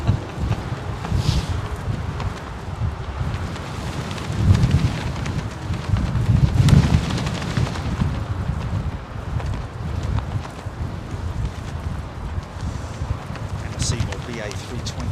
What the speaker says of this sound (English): Wind, what's going on? Seriously, just picked up.